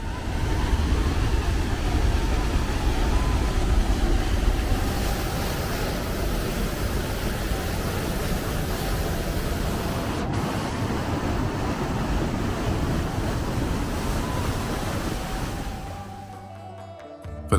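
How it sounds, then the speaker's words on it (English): The Sirwan River below a mountain village rushes past with a heavy, constant roar, a dense broadband wash that holds steady and loud before dropping away near the end. "the Sirwan River rushes by with a heavy,"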